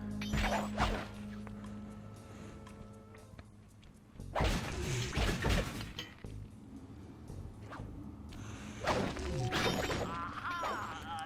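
Objects get smashed in Sly 2: Band of Thieves, with sharp crashes, thwacks and whooshing swipes arriving in three separate clusters, fairly loud against quieter game ambience and music.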